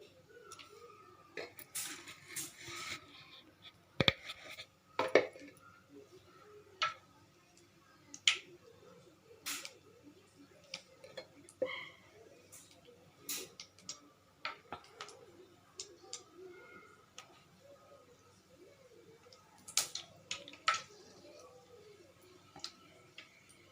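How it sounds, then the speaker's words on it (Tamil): Mustard seeds pop in hot oil in a pan, sharp scattered snaps and ticks up close, some in quick clusters, over a quiet background. "கடுகு போட்டுட்டோம். இப்போது கடுகு பொரியட்டும்."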